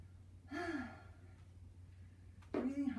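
Heavy breathing after a cardio circuit workout: two loud, breathy gasping exhales about two seconds apart, close to the mic over a low steady hum, with no talking.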